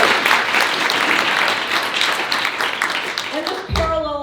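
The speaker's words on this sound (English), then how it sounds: "you can applaud for that." An audience applauds steadily, a dense wash of clapping that fades as a voice begins speaking at the end.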